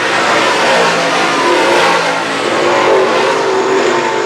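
Modified race cars roar around a speedway in a continuous, dense engine howl that stays loud and steady throughout, with no break in the noise.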